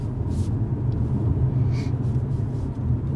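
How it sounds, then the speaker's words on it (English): A 2020 Mercedes-AMG CLA 45 S 4MATIC+ in its normal drive mode gives a steady low engine and exhaust rumble with road noise, moderately loud and even throughout, with no talking. "It's not the real exhaust, it's AMG real performance sound."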